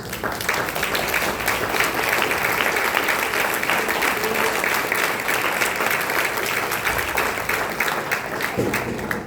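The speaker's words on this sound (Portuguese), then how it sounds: "dar uma linda salva de palmas para o Senhor Jesus" Congregation at a Communion service in church giving a long, full round of applause, dense and steady clapping that stays loud for the whole stretch, with a few voices faintly mixed in.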